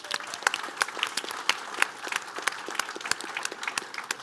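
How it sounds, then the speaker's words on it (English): Conference audience applauding the event hosts at iGaming Next in New York City, a crisp scatter of individual claps from a modest crowd, steady and fairly close, without talk. "I think it is more than appropriate to offer a round of applause for our hosts at iGaming Next"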